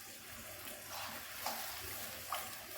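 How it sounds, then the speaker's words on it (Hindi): Whole spices, including star anise and cloves, frying in oil in a pan while being stirred, giving a steady close sizzle with light scraping and a couple of soft clinks. "अब अच्छी तरह से हम इसको हिला लेंगे।"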